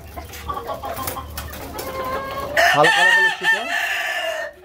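A large BLRI Hilly rooster crows loudly and close by among clucking hens on a chicken farm, its long cry rising over soft background clucks.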